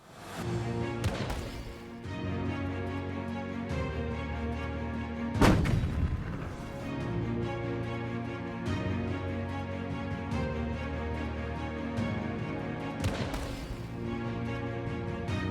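Loud, booming shots from a Maus tank's cannon in a video game fire at intervals over a steady low engine drone, with a few sharp impacts standing out.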